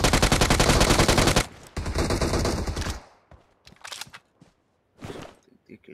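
Dense automatic gunfire from PUBG Mobile hammers loudly for about three seconds, breaks off, and is followed by scattered, fainter single shots and impacts.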